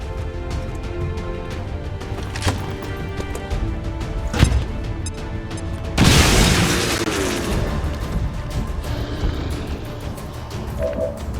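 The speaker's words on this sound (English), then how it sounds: "Grenade!" A grenade goes off in the video game XCOM 2 with one loud broadband blast partway through, followed by a rumbling decay, over a steady bed of game music and ambience with a few sharper pops before it.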